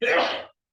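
A single short sneeze during a college game-development lecture, a quick burst of about half a second followed by silence.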